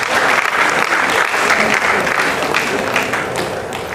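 A live audience at a Values for Daily Living event breaks into dense, sustained hand clapping, loud and even throughout before easing slightly at the end, with no voices rising above it.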